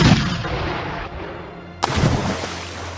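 Cannon fire in a Lego pirate ship battle between a schooner and a flagship, two sharp booming blasts about two seconds apart, each trailing into a rumbling decay, loud with no talking.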